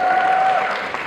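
A studio audience at a lively Tamil talk show bursts into brief, loud applause and cheering, a short burst that fades within a second.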